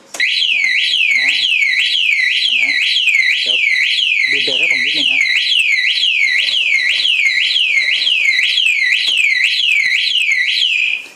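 A Honda PCX motorcycle anti-theft alarm warbles loudly up and down in rapid repeating sweeps, sounding continuously, while someone talks briefly underneath.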